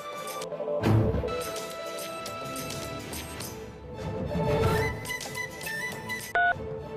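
A mobile phone rings with an incoming call, its electronic ringtone of stepped, repeating tones rising clearly over a soft dramatic musical background, then cutting off.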